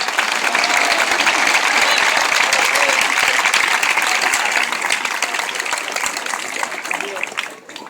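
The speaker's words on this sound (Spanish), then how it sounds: "Un aplauso para Pablo." Sustained applause from a crowd at a Podemos political rally in San Blas-Canillejas, loud and dense throughout, tapering slightly near the end.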